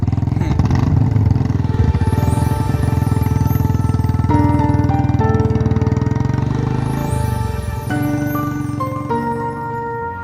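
A motorcycle runs steadily at close range with a continuous loud engine drone and rattling, shifting slightly in pitch as it rides along, with a music-like tonal layer on top.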